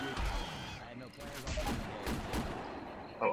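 Sniper rifle shots in the video game Left 4 Dead 2, several loud sharp cracks close together amid game chaos, with people talking over the gunfire throughout.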